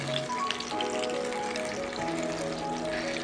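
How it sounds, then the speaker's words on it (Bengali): Gentle, even bubbling and crackle of chicken frying in oil over low heat, steady throughout with no talking. "একদম লো আঁচে ভাজবো"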